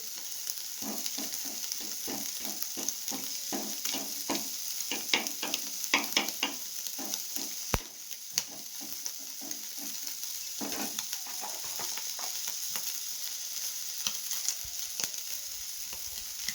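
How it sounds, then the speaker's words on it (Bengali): Dried red chillies and black cumin seeds tempering in hot oil, a steady close sizzle with scattered crackles and light stirring clatter running through, no voices. "এই তেলে দিয়ে দেবো দুটো শুকনো লঙ্কা ফোড়ন দেবো দেবো একটু কালো জিরে ফোড়ন"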